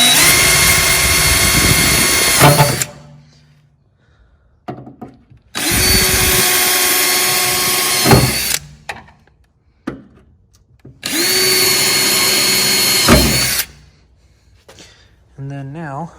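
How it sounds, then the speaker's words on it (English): A drill fitted with a 1/8 inch bit cuts through spot welds on a wrecked Tesla Model 3, three loud, close whining bursts of roughly three seconds each, separated by quiet pauses with faint handling noise. "Basically drilling a hole."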